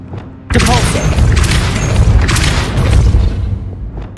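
Spell impacts in Hogwarts Legacy burst with a loud booming blast after a quiet start, a dense rumbling roar that sustains and fluctuates before cutting off, with a brief voice near the beginning.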